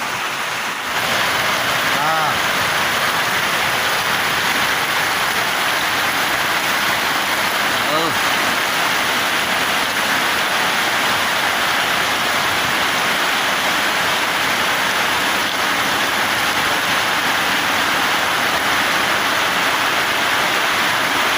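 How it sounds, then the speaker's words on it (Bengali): A heavy downpour roars on and on, a thick, steady wash of falling water that stays loud and close, with a voice faintly present beneath it at times. "প্রচুর বৃষ্টি হচ্ছে, প্রচুর বৃষ্টি"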